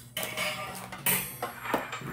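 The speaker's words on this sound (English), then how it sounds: "why don't we take our potatoes and dump them in that pan" Potatoes dumped into a cold pan in a home kitchen, a clattering tumble of pieces hitting metal in a few quick bursts, close and moderately loud.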